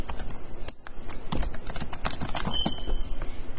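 Fast, dense keystrokes on a computer keyboard run almost without pause, loud and close, filling a form with a brisk irregular clatter.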